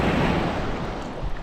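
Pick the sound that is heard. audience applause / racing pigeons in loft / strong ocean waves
strong ocean waves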